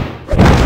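A single heavy thud of a thrust kick impact in Street Fighter The Movie The Game (1995), a short punchy hit that swells and lingers briefly.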